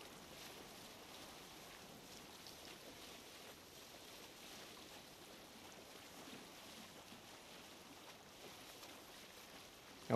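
A boat sailing up a river in Assassin's Creed Valhalla, set in Ireland: a steady, gentle wash of water and wind rushing past the hull, continuous and low, with no voices.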